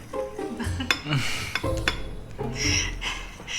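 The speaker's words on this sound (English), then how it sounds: "Whisk it." A whisk works through batter with vanilla for Dutch apple bread in a bowl, rapid clinking and scraping strokes of metal against the bowl, close and continuous with uneven bursts.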